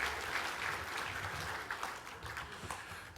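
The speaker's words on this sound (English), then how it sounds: "Another round of applause, please" Audience applause at a business excellence awards night, a steady wash of clapping heard faintly from a distance.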